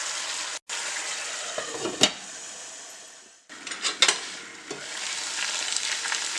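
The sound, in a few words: chicken frying in pan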